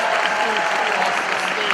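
A graduation crowd applauds families at a high school ceremony, a dense continuous wash of clapping with a voice still speaking over it through the short stretch.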